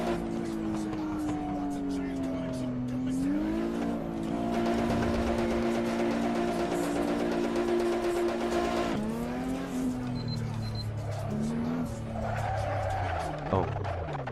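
A Ford production car lapping the Nürburgring in Assetto Corsa, engine droning and rising through the revs with a gear change, tires squealing at times, while someone talks over the steady engine sound.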